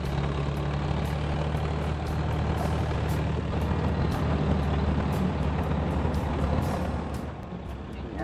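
Massey tractor engine in Farming Simulator 2014: a steady, loud, low idling drone with a constant hum and faint periodic ticks, running alone for several seconds before easing slightly at the end.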